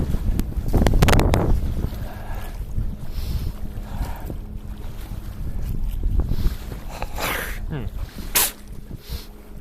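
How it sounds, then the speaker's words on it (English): Rowing boat with oars on a reservoir, with rustling wind noise over the microphone and a few splashy, knocking oar strokes under a steady watery background. "Basically just put my oars in the water"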